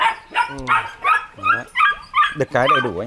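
Malinois puppies sired by a Mexican import yip, whimper and bark in rapid, high-pitched bursts close by, with someone speaking Vietnamese over them.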